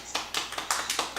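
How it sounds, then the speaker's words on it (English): A small group claps for one another after finishing a home workout, giving six or seven sharp, evenly spaced claps over roughly a second. "Can you clap for them?"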